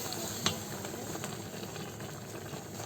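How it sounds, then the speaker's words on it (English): Spices, fish and pepper stirred into a pot of simmering Afang soup with okazi and water leaf, giving a steady bubbling, sizzling simmer with a sharp clink of the spoon near the start and soft stirring scrapes throughout. "So now we're adding all the little spices, fish, pepper. Add them and stir."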